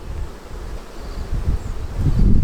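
Honey bees buzz around an open hive while the beekeeper pulls heavy frames before the last honey extraction. The low, steady hum swells toward the end, mixed with light rustling and wind-like noise.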